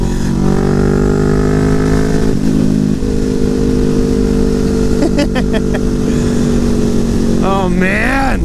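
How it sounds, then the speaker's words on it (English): A motorcycle engine drones steadily up close, with a short burst of sharp pops like backfiring partway through and rising revs at the end, loud throughout. "I love this bike. That backfiring too."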